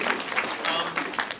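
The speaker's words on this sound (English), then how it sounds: "Round of applause for the ballsy question in the second row." Audience at a convention panel applauds in a short, moderately loud burst of clapping, with a voice speaking over it.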